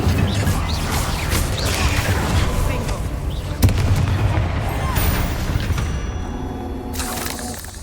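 Spell explosions crash and boom over a dense, roaring bed of game sound in Hogwarts Legacy, loud and continuous, with a sharp blast midway and a speaking voice mixed in.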